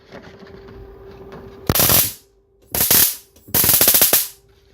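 A 400 kV high-voltage generator arcs through a sheet of A4 paper in three loud, crackling bursts, each under a second long, separated by short pauses against a faint steady hum.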